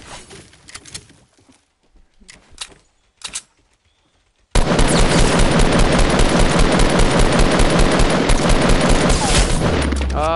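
Rapid gunfire bursts out in a video game, loud and sustained after a few scattered shots and a quiet stretch, with a dense volley of shots lasting several seconds.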